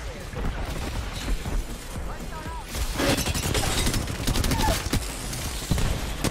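Gunfire rattles in the battle-royale shooter Apex Legends as bursts of rapid shots crack back and forth, loudest in the second half, under excited player voices talking.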